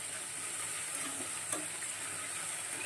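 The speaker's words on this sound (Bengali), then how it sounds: "গ্যাসটা কম করে দিয়ে ভাজা হবে" Fish frying in oil on low gas gives a steady, soft hiss and crackle that continues without a break, with faint stirring or clinking mixed in and no talk.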